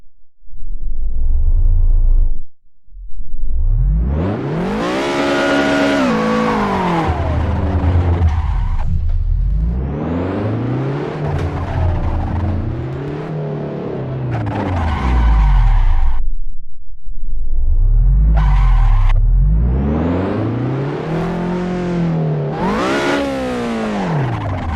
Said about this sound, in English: I'll try to do a couple of donuts